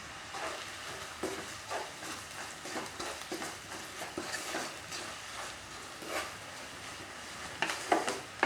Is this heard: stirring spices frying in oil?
yes